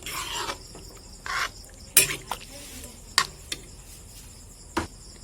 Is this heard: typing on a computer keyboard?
no